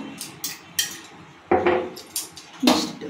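A spoon knocks and scrapes against a pan in irregular strokes while palm fruit pulp is stirred together with raisins, cashews and coconut pieces, close and moderately loud, with no talking.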